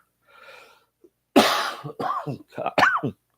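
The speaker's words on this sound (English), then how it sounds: "I still have the cough" A brief breathy sound, then one sharp, loud cough followed by a few rougher hacking bursts, close and unaccompanied.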